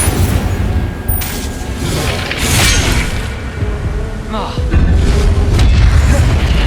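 Spell blasts in Hogwarts Legacy, booming magical impacts and fiery bursts that hit one after another amid combat effects, with a voice calling out over the action.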